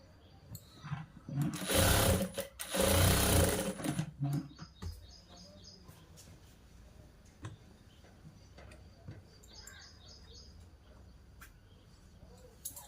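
A sewing machine runs a double stitch along the shoulder seam of a boys' school uniform shirt. It gives a loud, close burst of whirring stitching, followed by faint ticking and handling noises.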